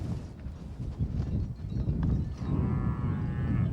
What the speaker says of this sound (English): At the salt lake, there are many cattle.